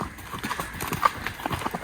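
Horse hooves strike the ground in a quick, uneven rhythm during a gallop across a stubble field, moderately close and steady over a couple of seconds with faint background noise.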